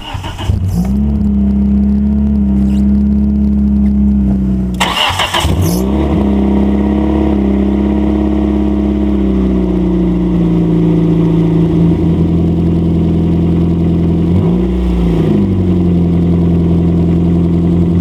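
A car engine runs steadily after a cold start in snow, a loud close drone with a deep low hum that dips briefly around five and fifteen seconds before settling back to a constant idle.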